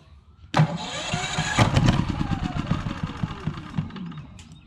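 A 2900-watt inverter generator with electric start cranking with a whirring starter, catching and sputtering into a rough idle close by, briefly revving before settling.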